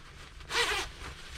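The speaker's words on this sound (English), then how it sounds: "The one thing I don't like is the zipper." Zipper on an Independent lightweight bomber jacket with no lining, pulled once in a quick close scratchy zip lasting under half a second against a quiet room.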